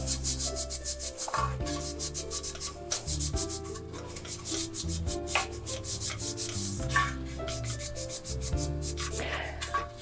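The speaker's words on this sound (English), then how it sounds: "I'm going to take this cloth and I'm going to rub it into the sides" A cloth rubs cleaning solution over the greasy outside of an air fryer basket, making brisk, close scrubbing strokes in a repeated back-and-forth rhythm.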